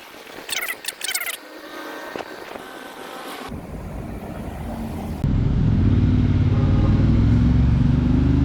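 A Ford Mustang on the road, heard from the cabin as a low engine rumble with wind noise, quiet and patchy at first, then a loud, steady drone for the last few seconds.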